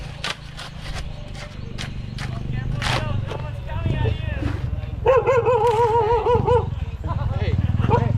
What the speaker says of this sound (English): Seems like the dog is a little blind.